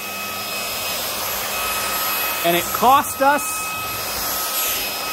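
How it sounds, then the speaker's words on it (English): A small Hompany vacuum cleaner hums and hisses continuously close by while a person speaks briefly over the noise. "This little vacuum's awesome."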